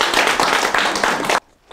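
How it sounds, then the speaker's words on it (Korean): An audience at a Korean lecture class gives a dense burst of clapping that lasts about a second and a half, then cuts off abruptly into near silence. "박수 한번 해주세요"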